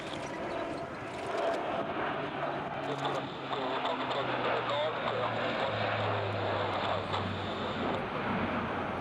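Airbus A400 military turboprop aircraft performing a flying display, a broad continuous propeller and engine roar with a low droning tone that drifts lower as it passes, heard at a distance with a commentator talking over it.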